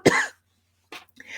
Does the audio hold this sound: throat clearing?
yes